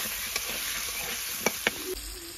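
Cauliflower and broad beans fry in oil with turmeric and salt, giving a steady bright sizzle. A few sharp clinks of stirring utensils sound near the pan.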